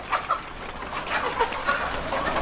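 KUB chickens in a coop clucking in short, irregular bursts, close and fairly loud, several birds overlapping without any talk.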